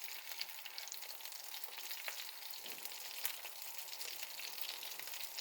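Aloo chicken kebabs coated in bread crumbs fry in a pan on a raised flame, giving a steady, close, bright sizzle with faint crackles and no talking.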